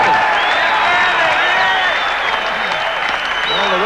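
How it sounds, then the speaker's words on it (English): A rugby crowd at the Buenos Aires selection versus All Blacks test match in 1991 standing and applauding, a steady dense wash of clapping with some cheering throughout. "the crowd standing and applauding"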